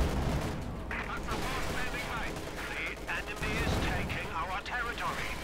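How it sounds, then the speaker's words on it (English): Rapid flak gunfire from a command tank in Company of Heroes 2, a dense burst of repeated shots layered with battle noise and a commentator's voice throughout. "The command tank flak punch joining in for a good few extra shots there."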